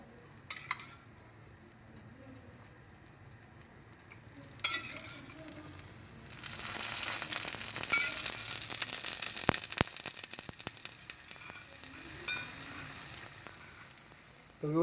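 A sweet potato paratha sizzles in ghee on a pan, starting as a low, faint crackle that swells into a steadier, louder hiss, with occasional scraping and clicking from handling.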